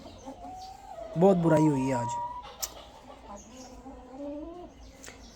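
A hen clucking close by in a backyard coop, a burst of harmonic squawks and cackles rising in the middle, with people speaking over and around it.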